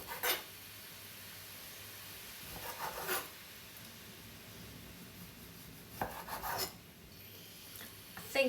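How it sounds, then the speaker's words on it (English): Kitchen knife slicing pork tenderloin into thick slices on a cutting board, quiet scraping cuts that come in a few separate brief strokes with soft pauses between them. "I'm using tenderloin, so I'm going to cut mine into about 1 centimetre"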